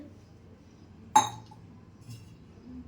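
A drinking glass gives a single sharp clink while milk is being taken at home, followed by faint handling sounds in a quiet room.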